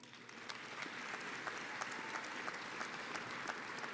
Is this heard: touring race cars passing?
no